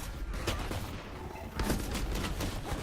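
Sheriff hand cannon gunfire in Valorant during a competitive match, with several sharp shots cracking over a noisy crowd and commentary background.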